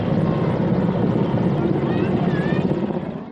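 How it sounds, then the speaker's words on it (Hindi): Helicopters flying over a firefighting operation, a loud steady rotor drone filling the scene with faint higher whines, fading slightly at the end. "हेलीकॉप्टर्स भी इस्तेमाल"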